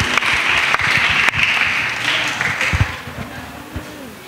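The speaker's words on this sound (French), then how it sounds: "Acclamez d'abord pour lui." Applause for a child in a church children's group, dense loud clapping from a close crowd that fades out over a few seconds.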